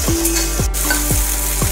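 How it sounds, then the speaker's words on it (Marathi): Cut okra sautéing with spices in a hot pan throws out a loud, dense sizzle, overlaid by four evenly spaced sweeping stirs of a spatula, very close. "आता ही कापून घेतलेली आपल्याला भेंडी टाकायची आहे, तेही चांगली परतून घ्यायची आहे।"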